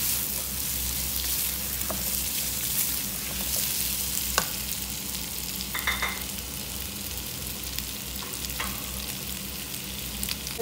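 Mango chutney ingredients fry in a pan with a steady, soft sizzle, broken by a few light clicks and scrapes of stirring, with no one talking.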